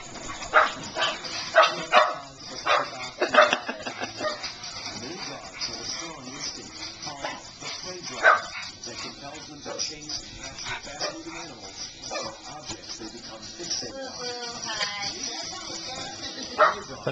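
Pugs barking and yipping at animals shown on a television indoors, with scattered sharp barks and whimpers over a busy room background and people talking nearby.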